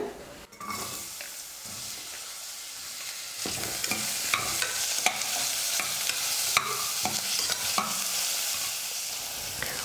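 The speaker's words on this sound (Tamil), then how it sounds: "எண்ணெய் நல்லா காஞ்சதுக்கப்புறம் 2 வெங்காயம் எடுத்து கட் பண்ணி வச்சுருக்கேன், அதை சேர்த்துக்கிறேன்" Two sliced onions frying in hot oil for a Tamil snack, with a steady sizzle and repeated scraping and clinking as a spoon stirs them around the pan, close and continuous without any talk.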